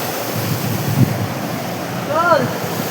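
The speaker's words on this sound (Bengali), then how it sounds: "তো তোমরা এখানে জলের স্রোত শুনতেই পাচ্ছ, কেমন আওয়াজ জলের স্রোতের এখানে।" Rushing stream water at Dossam Falls in hilly country, a steady close broadband wash of flowing water with wind-like noise and a faint brief whistle near the end.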